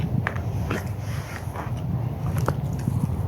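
Close, crunchy bites and moist chewing of cucumber and dry bread outdoors by a riverside embankment, repeated soft crunches over a steady background rumble.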